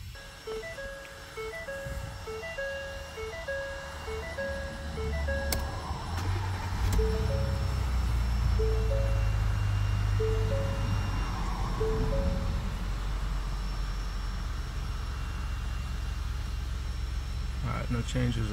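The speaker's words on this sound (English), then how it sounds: "Go ahead and turn the truck on" A 2021 Ford F-150 pickup is switched on: a repeating electronic chime beeps in an even rhythm, then the engine turns over and settles into a steady low idle hum close by.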